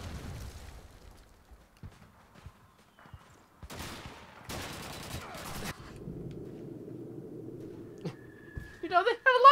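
Gunfire in the video game Call of Duty 2, with a few sharp isolated shots, then two dense bursts of rapid fire around the middle, followed by quieter game sounds and a voice near the end.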